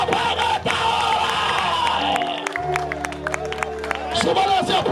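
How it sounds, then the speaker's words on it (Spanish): A large congregation at an evangelical service in the Dominican Republic claps and cheers loudly and continuously, with shouts and voices rising over the applause. "Súbale ese aplauso a Dios."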